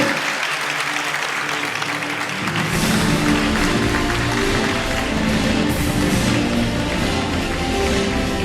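An award-ceremony audience in Sivas gives a loud, sustained round of applause for former Istanbul mayor Nurettin Sözen as he receives a lifetime honour award; dense clapping swells in after a quieter opening and continues steadily to the end.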